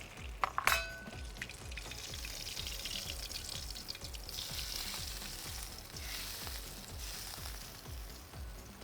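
Fish pan-fries in hot oil with a steady, quiet sizzle and crackle, after a brief clink of the pan near the start.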